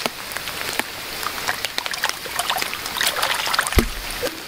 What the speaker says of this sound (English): Water dripping out of it.